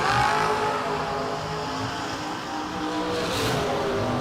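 Drag racing cars, including a Corvette Roadster, roar loudly and continuously through a launch, engines droning steadily with a rising whine near the end.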